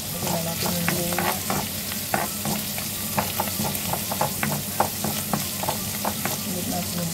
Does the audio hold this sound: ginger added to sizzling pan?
yes